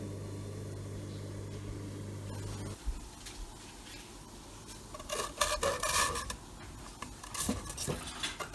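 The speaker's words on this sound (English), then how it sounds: "I'll scrape it into a container" Salt made at home being scraped out of a pan into a container, heard as faint, uneven scratching and rasping that grows busier in the second half after a low hum cuts off partway through.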